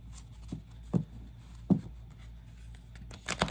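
A brand-new oracle card deck with thin cardstock is shuffled by hand, giving a few soft, close papery slides and flicks spread out between quiet pauses, with no talking.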